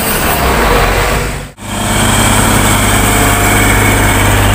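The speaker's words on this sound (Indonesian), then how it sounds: "Lumayan guys, bulldozer guys" A bulldozer engine runs loud and steady, a close rumbling drone cut by one brief dropout before resuming.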